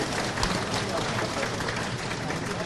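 A large crowd claps steadily and densely for the railway minister at a public ceremony flagging off the new Bhopal-Rewa-Bhopal passenger train, a continuous wash of applause lasting throughout.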